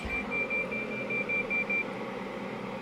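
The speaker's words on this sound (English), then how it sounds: "And that beeping is normal." A steady series of evenly spaced, high-pitched beeps from a marker beacon in a Cessna in X-Plane 11, repeating over a low engine-like hum.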